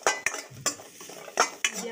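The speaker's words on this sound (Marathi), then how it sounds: "हे आपण छान असे ब्राऊन कलर होईपर्यंत परतून घेऊया" Onions being sautéed in a pan until brown give rhythmic, close clinks and scrapes of a spoon against the metal, about five sharp strokes over a faint sizzle, with no talking.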